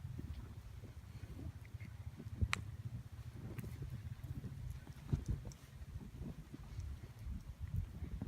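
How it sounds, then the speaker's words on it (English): Horses walk through deep snow, their hooves making soft, muffled thuds and crunches at close range, faint against light wind noise. "They step really different in the snow, especially because it's so high."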